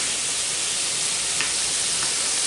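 Ground beef browning in a pan gives off a steady, close sizzle with a soft broadband hiss that stays even throughout, with no voices over it.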